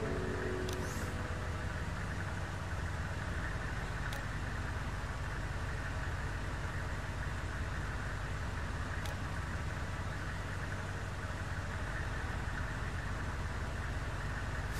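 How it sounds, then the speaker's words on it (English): Idling cars and trucks stuck in gridlock traffic in the video game Knee Deep, a steady low engine rumble holding at even loudness throughout with no talk over it. "The traffic doesn't seem to be in any hurry to break gridlock."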